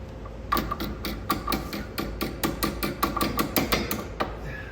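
A hammer taps a suspension bolt into place on an MK4 Jetta, with about fifteen sharp metallic strikes in a steady, quick rhythm, close and clear.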